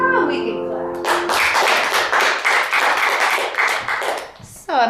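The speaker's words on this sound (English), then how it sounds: "Now we can clap." A group claps together in a steady, rhythmic run of sharp, close claps for several seconds, following a brief sung phrase, with a voice briefly returning at the end.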